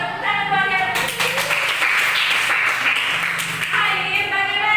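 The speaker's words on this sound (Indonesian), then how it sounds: "Tepuk tangan buat yang berdiri." Classroom applause from students for classmates standing up to answer, a steady clatter of clapping with children's voices mixed in throughout.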